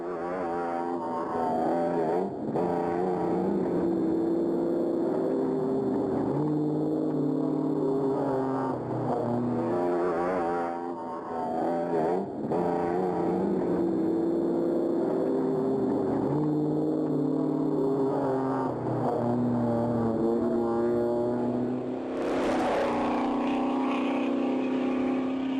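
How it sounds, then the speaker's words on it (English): A TVR factory V8-powered off-road race car in the Taupo 1000 desert-style race roars continuously, its engine note rising and falling through shifts and revs at fairly close range. "rren Bell and Gordon Mains were proving that the TVR Factory V8 powered English beast certainly had a place in the off-roading circles"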